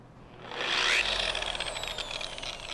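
A dual action car polisher runs on a test after brush servicing and reassembly, giving a steady close whirring motor hum that swells after half a second and holds with a slight rattle.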